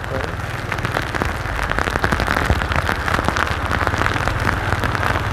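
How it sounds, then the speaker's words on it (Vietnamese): Heavy rain pouring on Kim Biên market street in Saigon, a loud dense steady patter with crackling drops hitting surfaces close by, continuing throughout. "Hôm nay mình tắm mưa nguyên video này luôn."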